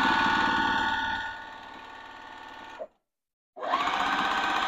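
Sewing machine stitching a seam on a quilted fabric bowl cozy, a steady close mechanical whir that slows, stops briefly for a moment of silence, then starts up again at full speed.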